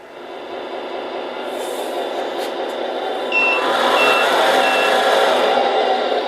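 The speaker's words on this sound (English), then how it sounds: "Hear the backing beeper." A Tamiya MFC sound unit on an RC truck plays its reversing beeper, faint repeated beeps over a steady loud engine drone, with no talk.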